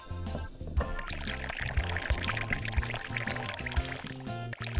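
Water runs from the tap of a toy spa in a doll play scene, a steady pouring trickle mixed under rhythmic background music throughout.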